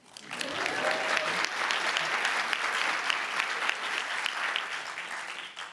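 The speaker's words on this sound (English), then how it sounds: "Applaud them." A commencement audience applauds faculty and staff, dense sustained clapping from a large crowd that swells quickly, holds steady for several seconds and then tapers slightly near the end.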